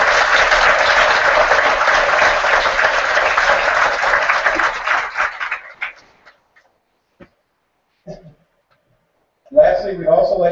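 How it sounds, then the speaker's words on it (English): Crowd at a 2014 high school graduation ceremony in Denmark applauding, dense clapping that fills the first five seconds, then thins out and fades into near silence, with a few scattered sounds and voices near the end. "Let's give them a big round of applause."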